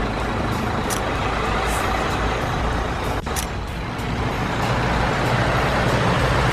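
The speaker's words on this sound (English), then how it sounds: "This is a haul truck." A big haul truck, a heavy dump truck from a children's construction vehicle app, rumbles with a continuous deep engine roar, briefly broken by a short hissing sweep like an air brake partway through.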